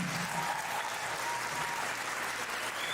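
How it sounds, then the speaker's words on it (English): A crowd gives a graduating class of 2021 a loud, continuous round of applause, dense and even from start to finish. "You guys deserve a huge round of applause."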